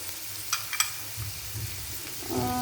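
Chopped onion and ginger frying lightly in a pan for baingan bharta give a soft, steady sizzle, with a couple of sharp clicks near the start and a low stir toward the end.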